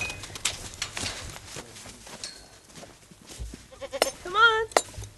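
Goats bleat near the end, one clear wavering call standing out after a stretch of muffled outdoor noise and a person calling to the herd.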